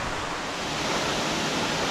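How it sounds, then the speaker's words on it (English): A waterfall on a slippery trail on Taveuni Island, Fiji, gives a loud, steady, full-bodied rushing roar that stays constant throughout, close by and with no voices over it. "There's the 2nd waterfall. Even better than the 1st one."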